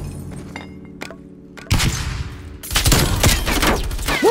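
Gunfire in the video game Black Ops Cold War, with scattered single shots followed by loud, sustained bursts of rapid automatic fire that fill the second half.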